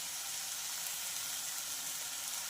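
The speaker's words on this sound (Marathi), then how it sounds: "आणि छान याला तेल सुटेपर्यंत हे मसाले फ्राय करून घ्यायचे आहेत" Spices such as coriander powder, chili powder and garam masala fry in oil for a kurma, giving a steady, even sizzle that continues without a break at a moderate level, with no speech.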